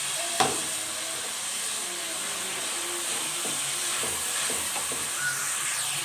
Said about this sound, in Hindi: और लहसुन अदरक को भी सही से भूनेंगे।